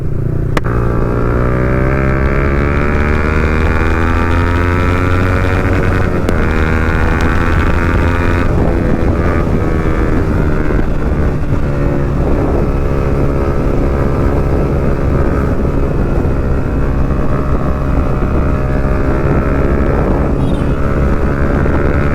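Several motorcycles fitted with aftermarket exhausts, among them an N160 and an MT-15, rev loudly and ride together, with rising and falling engine pitch that stays continuous and close throughout.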